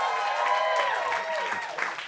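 Theater audience applauding after a stage play of One Night in Miami, a steady dense wash of clapping throughout, with faint crowd murmur and voices mixed in.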